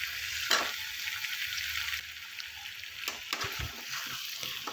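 Yellow pumpkin pieces fry in oil with tempered tomato and onion for a pumpkin poriyal, giving a steady close sizzle with occasional stirring scrapes and soft sloshes, with no talking.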